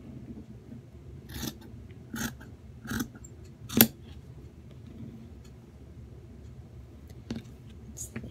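Scissors snip through a sock to remove the toe and heel, giving about five separate crisp cuts spread across the stretch over a low steady background hum, with no talking.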